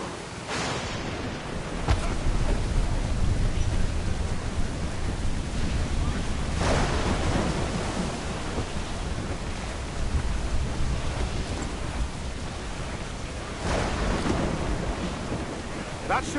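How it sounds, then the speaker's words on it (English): Stormy sea in Assassin's Creed IV Black Flag: a dense, steady roar of heavy rain and crashing waves, broken by several loud thunder cracks, with no voices. "Storm, Captain! Looks bad!"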